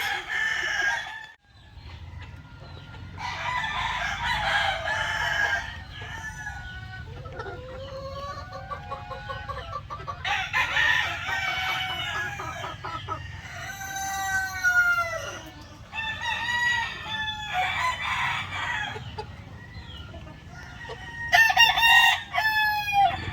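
Chickens cluck and a rooster crows repeatedly from a breeding pen over a quiet background, several birds calling in bursts, nearby and fairly clear.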